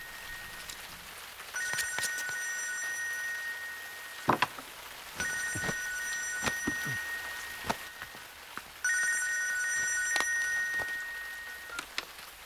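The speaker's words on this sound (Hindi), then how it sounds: "जरा फोन तो उठाओ।" A telephone rings in three separate bursts of electronic trilling, fairly loud and close, with short gaps of quiet between them.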